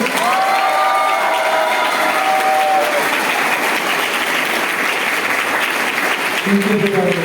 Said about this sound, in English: And give a huge round of applause for all our teachers.